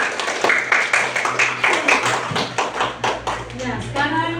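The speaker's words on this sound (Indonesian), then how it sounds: "Tepuk tangan dulu untuk kelompok 1." A fifth-grade classroom breaks into clapping for a group of pupils, a burst of quick claps that tapers off, with children's voices and chatter underneath.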